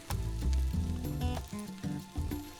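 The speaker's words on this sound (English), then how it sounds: "Then we're going to add our onions to a hot pan." Onions dropped into a hot pan of olive oil give a close crackling sizzle in bursts, set against a tonal music bed that rises and falls.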